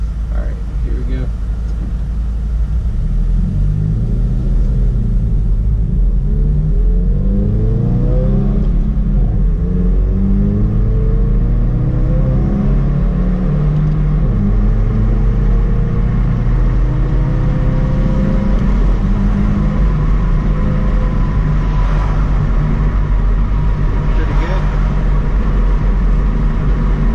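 A 2017 Subaru WRX with a Nameless catback exhaust, muffler delete and 4-inch tips rumbles loudly and revs up and down in a series of deep swells, with a few pops.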